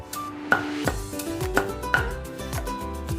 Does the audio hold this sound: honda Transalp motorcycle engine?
no